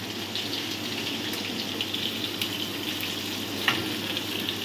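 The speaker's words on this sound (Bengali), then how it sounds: "দিয়ে যে ফোড়নটা এখানে ভাজা হতে থাকবে।" Chopped onion and tempering spices sizzle in hot oil in a pan for a Bengali soybean and potato dum curry, a steady close crackling hiss with faint stirring scrapes.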